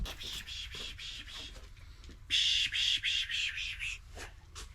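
A person makes a pishing noise, a voice imitating fussing birds outdoors near Kingsville, Texas: a run of short, hissy, rhythmic bursts, close and fairly loud, following softer faint chatter and ambient noise.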